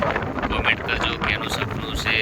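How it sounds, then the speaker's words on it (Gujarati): Wind at sea off Bet Dwarka, Gujarat, on an outing by boat, buffets the microphone as a loud, continuous broadband rush with constant gusty fluctuations throughout. "રોહિત જો પવન એટલો મસ્ત છે"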